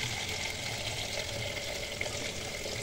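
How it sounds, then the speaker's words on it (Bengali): Tap water runs steadily onto duck meat being washed, a continuous close splashing hiss with no pauses. "এই যে আমি ট্যাপের পানিতে ধুয়ে নিচ্ছি"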